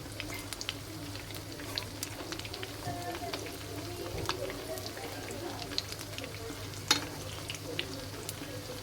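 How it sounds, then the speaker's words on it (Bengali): Snacks deep frying in very hot oil: a steady, dense sizzle and crackle runs throughout at moderate level, with occasional sharper pops and spatters, and no talking over it. "লাল লাল করে ভেজে নেবে"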